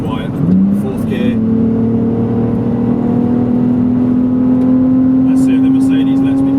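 A BMW Z4 accelerating hard in fourth gear, its engine note rising steadily into a loud, sustained whine heard from inside the car, with brief wind and road noise.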